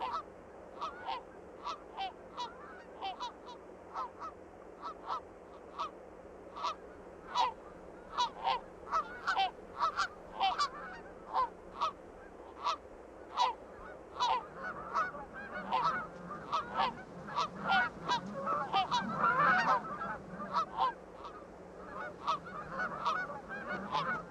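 Wild geese honk in the rugged Alaskan wilderness, a flock trading repeated loud calls in a quick, uneven rhythm that builds into a busier overlapping chorus toward the end.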